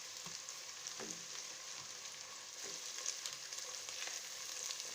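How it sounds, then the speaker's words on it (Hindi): Potatoes fry with ginger garlic paste in a pan for a potato and egg curry, giving a soft, continuous sizzle with scattered light crackles and a few stirring clicks. "अब इन तीनों चीज़ों को मैं 5 से 7 मिनट फ्राई कर लूँगी।"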